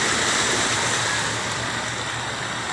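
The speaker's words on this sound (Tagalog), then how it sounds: "Baha sa aming barangay. Baha na sa aming barangay." Floodwater rushes steadily through a flooded residential neighbourhood in Imus, Cavite, as a loud, continuous broadband roar of moving water with no pauses.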